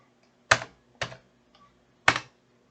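A number being typed on a computer keyboard while entering data in a spreadsheet: four crisp, close key clicks at uneven intervals in a quiet room, with no talk.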